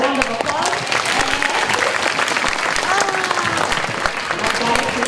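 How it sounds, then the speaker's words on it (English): An elementary school morning assembly crowd claps for a student, brisk sustained applause filling the room while children's voices and chatter rise over it. "Give Noah a round of applause."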